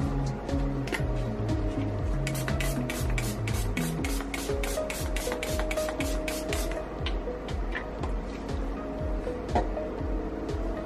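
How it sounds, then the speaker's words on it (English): Quick bursts of alcohol being sprayed onto cold process soap hiss in a steady rhythm, close by, over a busy background of musical tones and clatter. "And give that a spray of alcohol."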